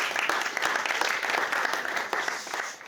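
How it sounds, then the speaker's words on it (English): Audience applause at an evening venture-capital fireside chat event in London, a steady wash of many hands clapping for about three seconds, fairly close and filling the room, with no speech over it. "So give yourselves a round of applause for making it down on Monday night"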